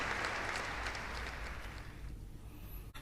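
An audience at a virtual Gujarati dayro claps in a steady wash of applause that gradually thins and fades out near the end, with no voices.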